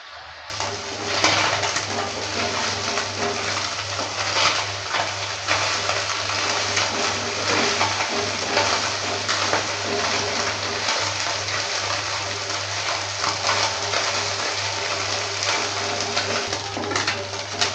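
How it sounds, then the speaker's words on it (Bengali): Small fish fry in oil over low-medium heat for a Bengali brinjal and small fish curry, producing a loud, continuous, even bubbling sizzle that holds steady throughout with no talking. "আস্তে করে উল্টে পাল্টে ভালো করে ভেজে নেব লো মিডিয়াম আছে"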